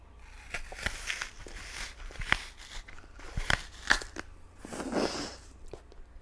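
Crisp crunchy bites and chewing of a very large apple, several close, distinct crunches spread across a few seconds, quiet and intimate with soft mouth sounds between.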